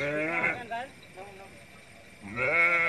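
Mundri sheep and lambs bleating on a goat farm: two loud, close bleats, one at the start and one at the end, with a quieter gap of low farm noise between them.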